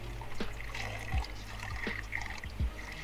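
Walnut-husk dye liquid trickles and drips through a straining cloth up close, a steady soft pour broken by a few small splashes.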